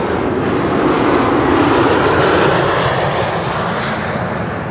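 Eastern Airways regional jet flying for KLM arriving at Amsterdam Schiphol runway 06, a loud, steady engine roar that swells and then slowly eases as the aircraft passes close by.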